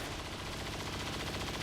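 A big-magazine weapon in a video game fires rapid automatic gunfire, a dense, loud, continuous burst.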